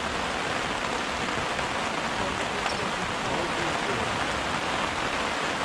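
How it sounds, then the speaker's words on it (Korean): Dense, even patter of rain drumming on a Swiss Alpine Club black backpacking tent at Mokgye pine forest campsite, Korea, a continuous hiss with no pauses or voices. "그 안에 들어가서 빗소리 들으면 좋아요"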